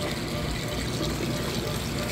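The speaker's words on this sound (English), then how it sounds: "You can hear it draining that water out." Kenmore direct drive washing machine draining water during its rinse cycle, a steady rushing, pumping hiss of water, fairly close and constant.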